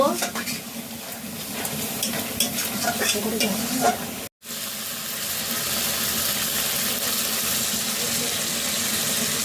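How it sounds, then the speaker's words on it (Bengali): Chicken curry with masala stirred in a frying pan: steady sizzling with repeated scraping strokes close by, a brief silent gap, then an even sizzle continuing. "এবার একটু নাড়াচাড়া করে নিচ্ছি।"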